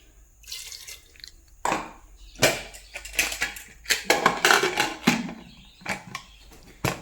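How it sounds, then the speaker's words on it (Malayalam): Water goes into a cooking pot in a home kitchen in bursts: splashing pours and drips with clinks of metal vessels, separated by quiet gaps, close and without talk. "അപ്പം ഇനി പാകത്തിന് വെള്ളം"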